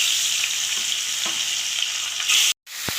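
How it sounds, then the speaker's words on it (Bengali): Pieces of rui fish fry in hot oil with a steady, dense sizzle that holds for over two seconds, then cuts out abruptly before resuming with a small clatter. "তেল গরম হয়ে গেছে, আমার মাছ ভাজি"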